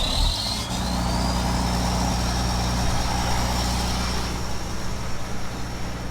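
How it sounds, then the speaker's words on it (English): A cold engine cranks and fires up on a 29-degree morning, then settles into a loud, steady idle rumble with a thin whine above it. "That was a pretty lame cold start."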